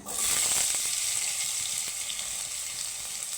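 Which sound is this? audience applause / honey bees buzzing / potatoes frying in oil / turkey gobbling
potatoes frying in oil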